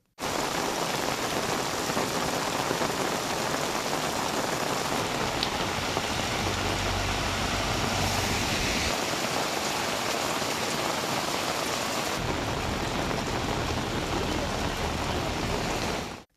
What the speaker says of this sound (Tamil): அரை மணி நேரத்திற்கும் மேலாக கனமழை பெய்தது